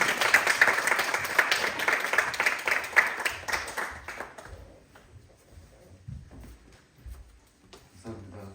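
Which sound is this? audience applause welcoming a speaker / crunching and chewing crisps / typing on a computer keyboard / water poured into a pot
audience applause welcoming a speaker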